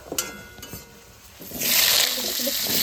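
Potatoes drop into hot oil in a pan while chicken biryani is being cooked. A few utensil knocks come first, then a loud, steady sizzle of frying swells up and continues as they are stirred.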